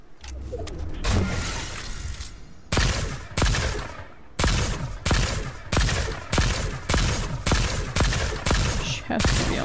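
Gunfire in the Fortnite video game, with repeated loud, sharp shots and bursts at a fairly regular rhythm, each with a short echoing tail.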